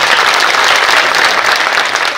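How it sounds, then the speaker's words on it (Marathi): A crowd at a Shivaratri kirtan gathering claps together, a loud, dense, continuous burst of applause lasting a couple of seconds with no voices. "तुम्हीच तुमच्यासाठी एकदा प्रेमान टाळी वाजवा"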